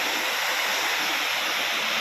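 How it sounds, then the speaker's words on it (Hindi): Water crashes steadily down a hillside waterfall, spraying hard in a loud, unbroken broadband roar close by, with no pauses or voices over it. "ये झरना कितना अच्छा झरना है यार, हाय राम क्या बढ़िया झरना है, मज़ा आ गया।"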